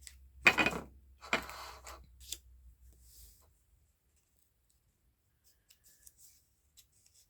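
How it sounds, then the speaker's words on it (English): Paper folded by hand along a perforation for a junk journal page gives a few crisp, close rustling crinkles in the first three seconds, then near silence broken by tiny scattered ticks. "Fold it where that perforation is"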